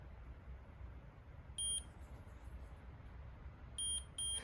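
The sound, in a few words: two beeps from greenhouse sprayer zone controller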